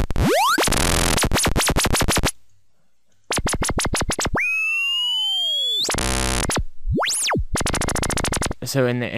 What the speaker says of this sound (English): by modulating the pitch with an LFO, you can get that sound of a laser